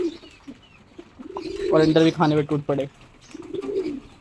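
Pigeons feeding on grain give soft, rolling coos, several in quick succession, close by, while someone speaks over them.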